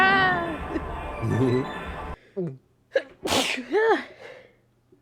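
One sharp, loud sneeze cuts in during a VTuber stream after a stretch of lively talk, followed by more short vocal sounds.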